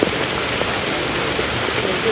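Steady rain patters on an outdoor lawn bowls green, a dense even hiss with scattered drops and no clear speech.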